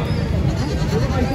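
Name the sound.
goat bleating at a livestock market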